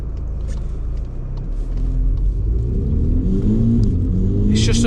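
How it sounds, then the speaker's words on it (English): A VW Polo GTI with a Milltek GPF-back exhaust accelerating in sport mode, its engine note rising steadily in pitch from a low rumble as it revs up, close and fairly loud. "It's nice that the exhaust note actually isn't too antisocial either."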